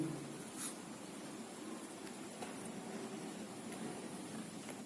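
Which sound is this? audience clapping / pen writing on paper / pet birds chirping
pen writing on paper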